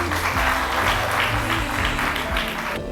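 Wedding guests in Brazzaville applauding after the vows, a continuous roar of many hands clapping, loud and full, with faint crowd voices mixed in.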